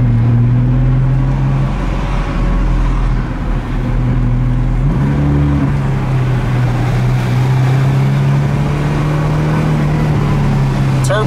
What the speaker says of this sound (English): the turbos do sound nice. They just spool up right away